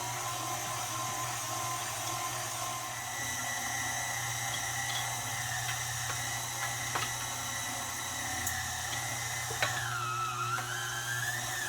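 A mixer grinder attachment running on setting 4 grinds frozen, firm brisket, giving a steady high-pitched motor whine with a constant hum beneath and small fluctuations as the meat passes through, close and continuous throughout.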